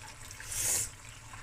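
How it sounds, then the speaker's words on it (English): Vinegar is poured into a seafood dish being prepared for the festive season, a brief soft splash and trickle lasting under a second, close and fairly quiet. "I'm going to add vinegar"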